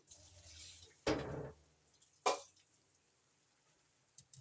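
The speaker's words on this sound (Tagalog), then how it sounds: "I-drain natin siya para maiwan yung juices" Liquid drains off cooked vegetables for lo mein, two distinct splashy pours separated by quiet gaps, then a couple of faint drips at the end, close and soft.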